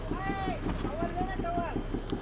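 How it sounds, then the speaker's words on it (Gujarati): A companion's fishing boat approaches at sea. Its engine gives a rhythmic low chugging under wind buffeting on the microphone, with voices heard over it. "અમારી સંગાતીની બોટ આવીશ."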